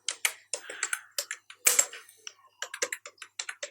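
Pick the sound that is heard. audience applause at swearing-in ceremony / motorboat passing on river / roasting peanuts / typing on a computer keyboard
typing on a computer keyboard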